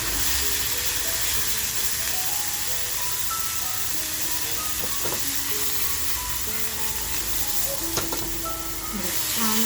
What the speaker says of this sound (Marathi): आपण जो ठेचा करून घेतलाय तो तेलात टाकूया.